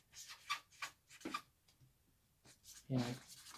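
A pen scratches out character names on a folded paper card in short, soft strokes with brief pauses, close up and fairly quiet.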